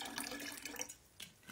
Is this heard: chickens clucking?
no